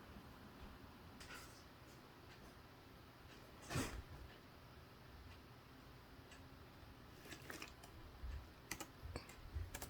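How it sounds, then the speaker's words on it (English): Faint, sparse taps on a computer keyboard entering a number, a few isolated clicks with one slightly louder keystroke, close but quiet in a hushed room. "So I'm going to type in 3, and let's see what the value would be."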